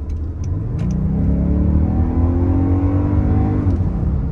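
A 2024 Toyota Grand Highlander Hybrid Max accelerates hard with its augmented engine sound, a loud, steady rising growl that climbs in pitch for several seconds, then eases off near the end, with no talking.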